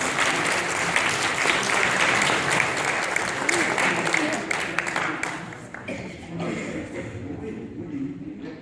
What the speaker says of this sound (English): Let's give them a round of applause and do that.